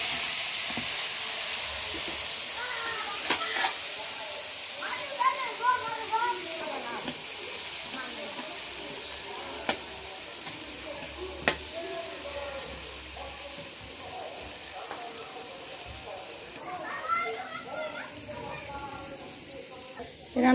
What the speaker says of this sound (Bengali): মাছ ভাজা শেষ, এখন দিয়ে দেবো বেগুন।